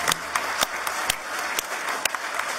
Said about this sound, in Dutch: Ik vind dat een applaus waard.